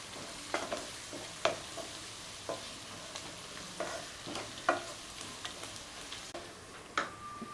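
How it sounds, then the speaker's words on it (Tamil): Onions with turmeric and curry leaves sauté in a pan: a soft, low sizzle punctuated by sharp clicks and scrapes of a spoon stirring against the metal at irregular intervals, with no speech. "இப்போ நல்லா வதக்கிடலாம் வெங்காயத்தை திரும்பவும்"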